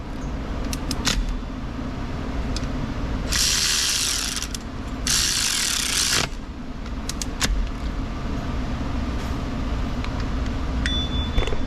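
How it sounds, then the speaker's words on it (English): A hand ratchet tightens the tensioner and idler pulleys on a Subaru Forester 2.5 engine, giving two long, loud bursts of rapid clicking close by over a steady low hum, with a few sharp clicks around them. "let's tighten down all the tensioner and idler pulleys"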